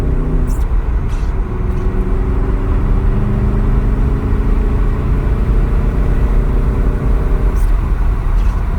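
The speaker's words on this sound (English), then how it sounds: "when you get on it in race mode, which is what we're in, you will hear the exhaust more." A VW Golf R Mk7.5 engine with Unitronic Stage 1+ tune and stock exhaust, in race mode, drones steadily with a low exhaust rumble, rising slightly as it's pushed, heard from inside the car without talk.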